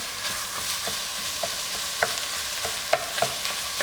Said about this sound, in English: I'm gonna let that saute a tiny bit just to get it incorporated.